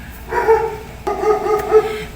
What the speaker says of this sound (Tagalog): Pasensya na sa background, may aso.